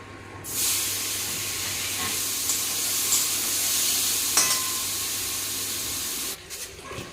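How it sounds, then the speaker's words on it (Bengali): Large pieces of baim eel fish fry in a pan with a loud, steady sizzle and hiss that starts abruptly and runs for about six seconds before cutting off, with a few small clinks along the way. "এই দেখো কত বড় বড় বাইম মাছের টুকরো এটি বেজে নেব"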